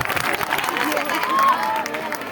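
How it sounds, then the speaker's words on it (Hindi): An audience applauds loudly to welcome an artist on stage at a live event, a dense wash of clapping and crowd noise with a voice speaking over it. "जोर जोर ताली मारी के स्वागत करमा"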